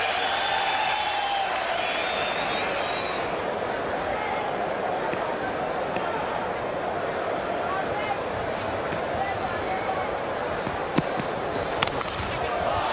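Cricket Test crowd in Barbados, 1999, applauding a batsman's half century: broad, steady clapping and crowd noise fill the whole stretch at moderate distance, with a few sharper thumps near the end.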